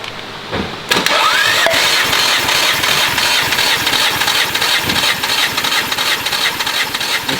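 A car engine cranks over steadily during a cylinder compression test. The even, chugging starter rhythm is loud and close after a brief quiet start, and no one talks over it.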